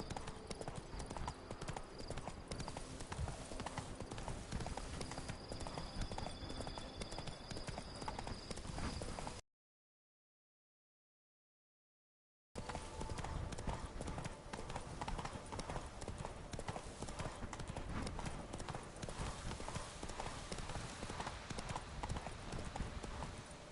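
Roach, the horse in The Witcher III played on PS5, trots along with a steady, even clip-clop of hooves that runs throughout, broken by a brief silent gap partway through.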